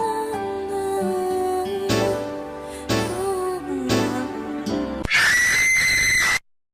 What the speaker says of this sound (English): a very loud scream playing.